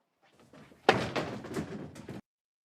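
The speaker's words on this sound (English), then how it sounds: "knocks over the chair" A chair knocked over during a college football broadcast: a sudden loud wooden thunk followed by a clattering, rumbling tumble lasting about a second, then abrupt quiet.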